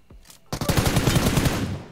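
An Uzi in PUBG Mobile, on the Sanhok map, fires a sudden rapid burst of automatic gunfire after a quiet moment, loud and dense before it trails off.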